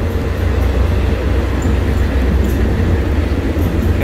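Steady loud rumble of a local diesel railcar, train 427, running between Nakhon Ratchasima and Sikhoraphum, heard from inside with constant low engine drone and rail noise throughout, no talking.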